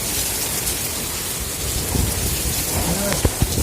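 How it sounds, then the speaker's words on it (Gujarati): A heavy monsoon downpour with strong wind lashes a house in Devgam, Gir. Dense, constant rain drums on surfaces while thunder rumbles and cracks, growing louder near the end. "જોઈ લો વાવાઝોડું કેવું છે."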